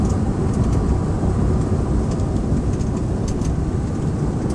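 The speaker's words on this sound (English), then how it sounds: "You can even hear the noise of the tires on" Tire noise from a 2009 Ford F150 with a 5.4 Triton engine on bumpy pavement, a steady low road roar and hum from inside the cab, even and unbroken throughout.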